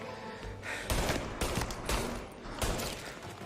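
Gunfire in Mafia: Definitive Edition cracks out in loud irregular volleys of shots and bursts with brief lulls between them, close and chaotic, with no voices.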